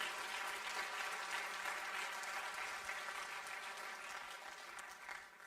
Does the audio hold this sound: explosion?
no